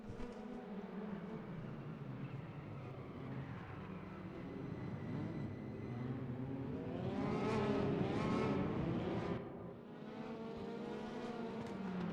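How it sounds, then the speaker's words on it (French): Race cars in a Praga Cup event in the RaceRoom sim racing game starting a race, a dense chorus of engines droning and rising together as the pack accelerates, steady and moderately loud with no talk. "Très bon départ de Rémi Verhaeghe qui va réussir à passer à travers les mailles du filet"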